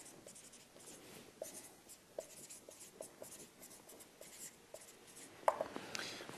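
Math equations being written by hand, likely chalk or marker on a board, with soft scratchy strokes and light taps in an irregular rhythm, quiet and close.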